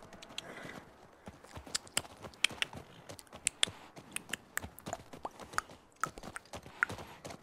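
Horse hooves clip-clopping in the video game The Last of Us 2, a steady walking rhythm of sharp close clops with faint game ambience beneath.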